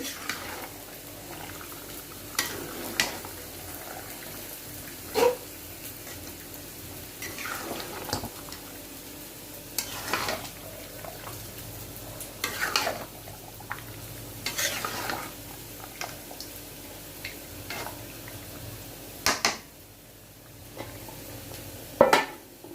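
Chicken frying with whole garlic in a pan, stirred every few seconds with scraping clinks of a spoon against the metal over a constant soft sizzle, close by with no talk.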